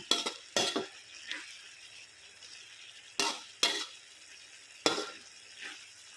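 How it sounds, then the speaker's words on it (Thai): Garlic chives stir-fried in a pan, with sharp bursts of scraping and clattering at irregular intervals over a faint sizzle, close and moderately loud. "ไม่ผัดนานนะคะ เพราะมันสุกง่ายนะคะ"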